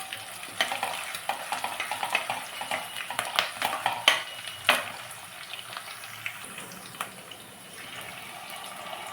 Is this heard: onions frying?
yes